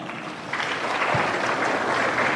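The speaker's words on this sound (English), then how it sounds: "Let's give them a nice hand clap." A crowd at a university career day claps together in steady, dense applause filling the whole stretch, fairly even in loudness with no voices over it.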